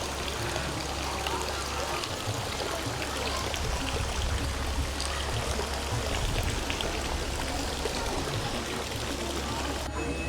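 Holy spring water flowing steadily into the bathing pools at Tirta Empul temple in Bali, a continuous splashing rush with a low rumble, close and unbroken for ten seconds.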